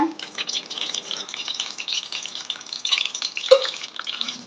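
Fennel seeds drop into hot oil in a pan and crackle softly, a light irregular sizzle with a few sharper pops, close by and without speech.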